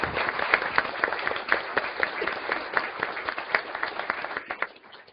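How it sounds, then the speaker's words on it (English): An audience claps steadily at a school board meeting to honour a coach named Coach of the Year, with dense, continuous applause that thins toward the end. "he deserves a round of applause for that as well"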